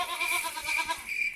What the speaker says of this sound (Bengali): এই দেখো ছাগল, দেখো